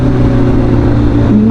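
Suzuki GSX-S1000 motorcycle engine running loud and close with a steady throaty rumble, the pitch dipping then rising sharply in a quick rev at the end.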